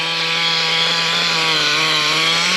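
A Traxxas T-Maxx nitro RC truck engine, low on fuel and with idle trouble, runs with a loud, continuous high-pitched buzz that holds steady throughout.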